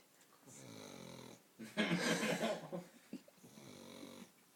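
A small dog snores while asleep, with soft rhythmic breathing rising into a louder, rougher snore in the middle before easing back to quiet, close-up breaths.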